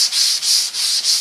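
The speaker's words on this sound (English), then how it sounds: "I do like the way it's sanding right now" Fine-grit sandpaper rubs back and forth over a Valspar finish in steady strokes, four close, even passes of dry scratchy sanding with brief pauses between them and no voices.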